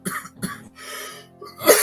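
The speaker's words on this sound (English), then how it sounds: "I'm trying not to cough" A person coughs several times in quick succession in a loft, close and fairly loud, with short harsh bursts separated by brief pauses.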